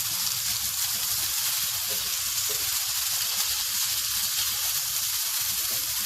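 Thinly sliced peppers fry in a pan, giving a steady, loud, close sizzle and hiss that runs without a break for about six seconds, with no talking.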